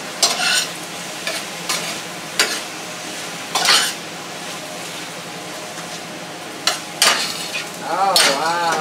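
Diced tomatoes and squash frying in olive oil in a pan for a Thanksgiving squash medley, a steady low sizzle broken by repeated loud scraping stirs and clinks of utensil against the pan, close up with no talking.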